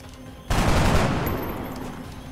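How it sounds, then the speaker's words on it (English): Gunfire in the video game XCOM: a sudden loud burst of rapid shots starts after a half-second lull, then rolls on as a dense, slowly fading volley. "Give him some volume of fire right there."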